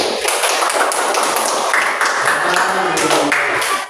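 A classroom group claps and taps in a dense, bright burst lasting throughout, loud and near, with voices mixed in.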